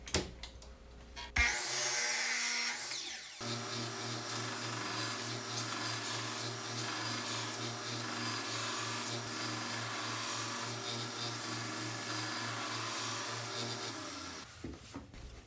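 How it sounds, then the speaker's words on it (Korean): Woodworking power tools, a miter saw and a belt sander, shape a wooden sled runner, starting with a short burst of cutting and then a long, steady sanding drone that stops near the end. "썰매날의 앞부분은 미토소로 대략 절단을 하고 벨트 샌더로 정확한 형태로 갈아줍니다"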